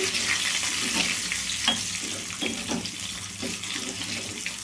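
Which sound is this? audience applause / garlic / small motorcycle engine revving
garlic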